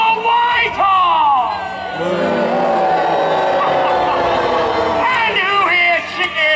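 A Renaissance faire crowd at a Pennsylvania Halloween joust roars for the knight Whitehall, loud overlapping shouts, whoops and yells rising together in a sustained burst close by.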